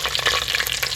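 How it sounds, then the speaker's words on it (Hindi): Chicken pieces hit a pan of fried garlic and ginger, giving a steady close sizzle with bright crackling and scraping from stirring throughout, no voices. "लहसुन और अदरक जो है अच्छे से भून गया, तो मैं इसमें डाल दूँगी चिकन"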